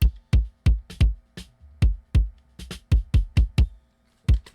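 A layered kick drum sample with an electric, synthetic edge hits repeatedly on its own. Each strike is a punchy click with a booming low tail, about fourteen in an uneven, syncopated pattern with short silences between them.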